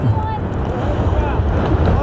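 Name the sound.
wind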